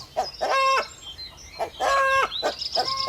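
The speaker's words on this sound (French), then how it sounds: "ce coq manifeste sa joie" A rooster in a backyard henhouse gives three short repeated calls in quick succession, fairly close and clear, with no talking.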